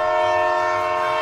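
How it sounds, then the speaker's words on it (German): A train in the Roblox game Notruf Hamburg sounds a steady, loud horn-like tone as it arrives, continuous through the brief moment with a faint low rumble beneath. "Ah, der Zug kommt."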